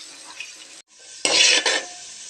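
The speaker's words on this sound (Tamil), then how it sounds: "வெங்காயம் நல்லா செவக்க வதங்கட்டுங்க" Sliced onions and slit green chilies for biryani fry in an oily pan, a close steady sizzle broken by a brief pause, then a louder burst of hissing and scraping as they are stirred.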